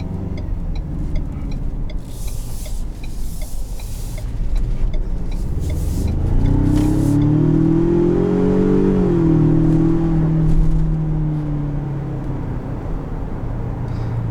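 Engine of a 2020 Ford Ranger Lariat with the 2.3 EcoBoost accelerates from a quiet cabin, the revs climbing loudly and then easing off, heard from inside with rustling early on and no speech.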